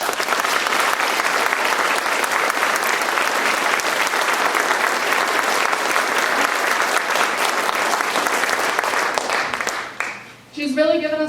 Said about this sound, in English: why don't we give her a round of applause?